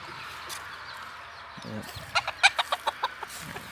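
A white bantam hen clucks close by, giving a rapid run of short, sharp clucks after some soft rustling and low background noise.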